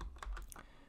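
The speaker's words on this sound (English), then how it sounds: "add the JavaScript file by typing in script src" Fast, close keystrokes on a computer keyboard as code is entered for a JavaScript project, a short burst of crisp clicks.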